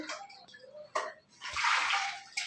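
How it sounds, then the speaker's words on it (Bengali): Meat is washed under running water, with short splashes and rinses followed by a sustained stream of water that spatters close by, with faint voices in the background. "এখন মাংসটা ধুয়ে নিই"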